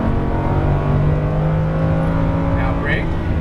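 A Lamborghini Huracan's engine drones loudly and steadily from on board during track driving, with the throttle being eased on and squeezed down, while a driving instructor gives continuous directions over it.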